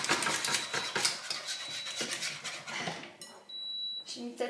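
A whisk scrapes and rattles rapidly against a metal saucepan while chocolate mousse is being whisked, a busy close-up clatter with a brief quieter gap near the end, where a voice speaks.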